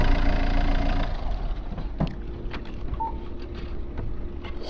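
An Opel Astra H 1.7 CDTI diesel engine idles steadily with a low, continuous rumble, its tone shifting slightly partway through, with a few faint clicks on top.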